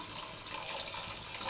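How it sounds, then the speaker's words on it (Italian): Hot water poured into a cooking pan of sautéed onions and potatoes over a fire, a steady hissing rush of liquid, close and continuous with no talk. "iniziamo ad aggiungere un po' di acqua calda"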